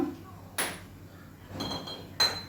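A metal kadai is set down on a lit clay stove, giving three distinct clanks with ringing metallic tails, spaced over a couple of seconds in a quiet kitchen.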